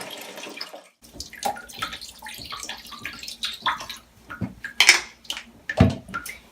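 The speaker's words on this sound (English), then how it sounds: "I'm just going to pour that into the bucket." Shampoo and water are poured into a bucket in short bursts of splashing and sloshing, with a few louder splashes near the end and quiet gaps between them.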